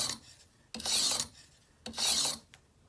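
Japanese Nejiri weeding sickle drawn across the stone of a TSPROF guided sharpener, two distinct rasping strokes about a second apart, close and clear with quiet pauses between.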